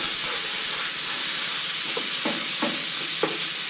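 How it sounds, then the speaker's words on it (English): Bacon renders in a pan for carbonara with a steady, close, loud sizzle and hiss. Several scraping stirs cut through the frying, and no one speaks. "see what we got here is the bacon's really starting to render up right now"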